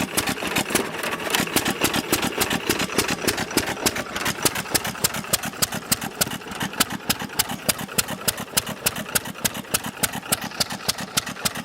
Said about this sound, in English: 1920 or so Novo Model S 3 horsepower upright with factory Wico EK magneto on it